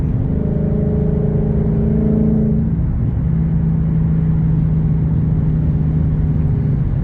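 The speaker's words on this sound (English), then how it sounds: "exhaust note." Car engine and exhaust note while driving on the road, a steady mid-pitched drone that drops in pitch partway through as the car shifts or eases off, loud and continuous with no talking.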